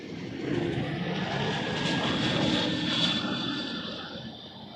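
An airliner roars down runway 05 at Toronto Pearson on its takeoff run, a broad, steady engine rumble heard from a distance and swelling slightly before easing.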